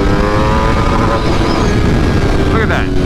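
A 2022 Aprilia RSV4 Factory 1100 with an ECU flash tune runs at full throttle in first gear up to the limiter, a loud, close, sustained engine roar with a strong low rumble.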